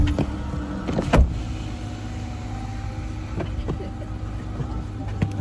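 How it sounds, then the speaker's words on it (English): A car power window lowers with a faint motor whine under the low hum of the cabin, with a brief thump near the start. "Why you so pressed to put the window down?"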